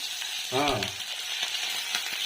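Green chili, onion and curry leaves sizzle steadily in hot oil, a soft continuous frying crackle with a brief spoken voice over it near the start.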